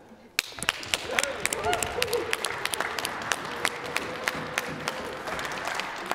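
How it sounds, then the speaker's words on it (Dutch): A concert hall audience at the Young Classical Talent Award 2021 bursts into sustained applause after a sharp opening hit, with many hands clapping in a thick, even wash that continues to the end. "Klap alsjeblieft voor jullie zelf."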